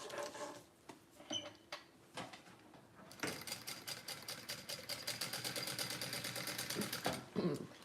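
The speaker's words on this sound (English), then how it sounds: "Mona, they said the top tension's too tight, so I'm gonna loosen it and see how that works" A sewing machine with its top tension just loosened first gives a few soft handling clicks, then breaks into steady, rapid, rhythmic stitching chatter that runs close and clear until near the end.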